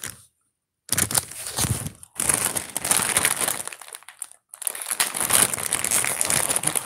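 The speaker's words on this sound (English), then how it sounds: "Rico, they made this plastic bag thick, honey." A thick plastic bag is crinkled and crushed by hand up close, in loud bursts of rustling and crackling separated by short silent pauses.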